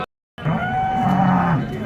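A Jersey cow at a cattle market in Sangola moos loudly and close by in one long, sustained low call right after a brief silence.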